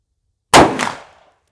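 A single loud gunshot from a Big Horn Spike Driver takedown rifle in .500 Magnum at a shooting range cracks sharply out of silence, followed by a short rolling echo that fades.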